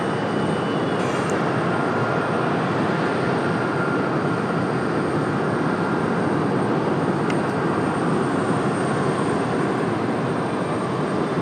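An airliner rolls for takeoff on runway 23 right at Raleigh-Durham International, a steady broadband engine roar filling the whole stretch at constant, loud level with no voices over it.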